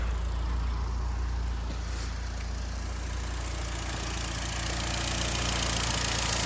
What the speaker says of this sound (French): j'avais dit que j'éteignais le moteur